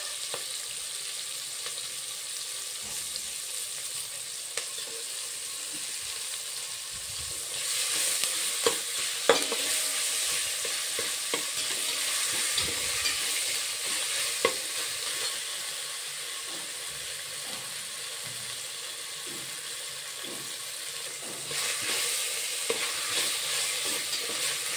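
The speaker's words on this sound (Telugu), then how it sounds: "ఇప్పుడు ఆనియన్స్ వేగుతున్నాయి కదా, దీంట్లో కొంచెం అల్లం వెల్లుల్లి పేస్ట్ వేస్తున్నాను" Sliced onions frying with ginger garlic paste in a pan for a brinjal masala curry, a soft steady sizzle with occasional scrapes and clinks of a stirring spoon, close and alone.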